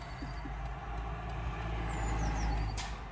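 Steady low engine drone from a 2021 BMW M3 Competition with a 510 hp six-cylinder, heard from inside the cabin as a continuous moderate rumble without speech.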